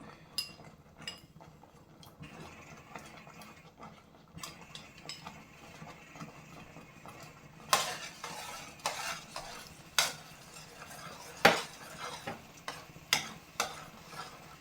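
Spoon stirring cooked pumpkin into milk rice pudding in a pan for Kerala-style mathanga payasam, soft scraping and gentle clinks against the metal, growing into sharper repeated knocks in the second half.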